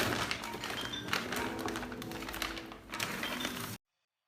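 An MSI B450 Gaming Pro Carbon AC motherboard box is opened with a flurry of close taps, thumps and cardboard handling noises, dense and busy for nearly four seconds before cutting to silence.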